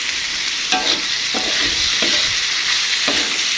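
Wet tempeh with mushroom stock and sweet soy sauce sizzles steadily in a pan, with a spatula scraping and stirring in several distinct strokes over the constant hiss.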